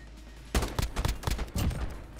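Gunfire from a gun in Modern Warfare sounds as a short string of about six fast, punchy shots, close and loud, following a quiet lead-in.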